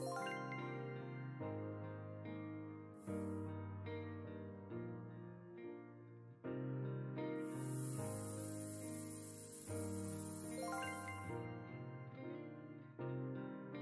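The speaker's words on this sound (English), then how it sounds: "it does look like we've got one more thing to paint and varnish over here with the spray paint" Spray paint hisses onto a toy in the video game Toy Tinker Simulator: two short bursts, then one long, steady spray of about four seconds, all over gentle background music.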